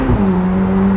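A Ferrari F8 Spider's turbocharged V8 pulls hard under acceleration, a loud, close, steady engine drone held for about a second.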